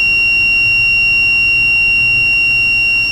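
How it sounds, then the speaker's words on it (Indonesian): A gas leak detector built on an MQ-135 sensor sounds its buzzer, a steady, unbroken high electronic tone held at constant loudness throughout, with no voices. "Apabila sensor MQ135 mendeteksi adanya kebocoran gas"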